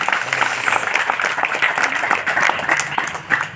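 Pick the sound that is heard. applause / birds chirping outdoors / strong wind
applause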